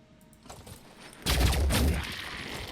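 Gunfire in the video game Phoenix Point: a quiet lead-in, then a loud sustained burst of rapid shots that keeps rumbling to the end.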